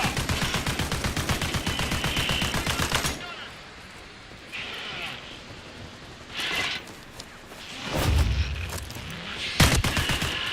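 Rapid automatic gunfire from the shooter game Caliber, a dense burst of shots for about three seconds, then scattered single shots and bursts over a quieter background, with a voice speaking briefly.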